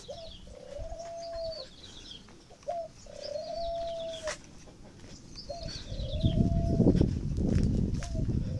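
Thai spotted doves cooing over and over at a breeding farm, several calls overlapping in rhythmic repeated phrases, with a low rumbling background that grows louder toward the end.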